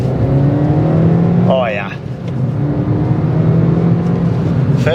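Suzuki Swift Sport manual hatchback engine droning steadily while driving, heard from inside the cabin, with a brief dip in the middle, and someone speaking briefly over it.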